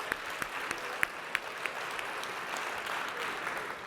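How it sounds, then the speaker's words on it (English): Room applause for election workers at a policy event, a fairly quiet, even wash of clapping from a modest crowd with a few sharper nearby claps popping out, heard from a distance. "can we just give a round of applause for the election workers in the room?"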